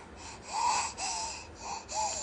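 A young child yawning softly at bedtime, a quiet drawn-out breathy sigh rising and falling over about two seconds, close and alone.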